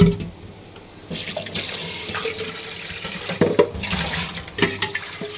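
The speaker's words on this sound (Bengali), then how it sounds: "আমি একটু পানি নিয়ে নেব।" Water running from a kitchen tap, a gushing stream that starts after a brief pause and splashes unevenly into a vessel, with a few clinks of the container, no speech.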